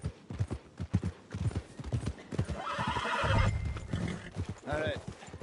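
Horse in Red Dead Redemption 2 with clip-clopping hooves and a loud whinny close by, while a person talks over much of it.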